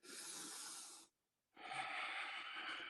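A yoga instructor breathes audibly in two long, airy breaths, each lasting about a second, with a brief silent pause between them, close and fairly quiet.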